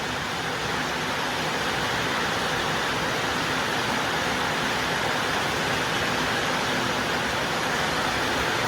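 Heavy rain pours in a dense, steady broadband hiss that fills the whole stretch evenly and loudly, without pauses or voices.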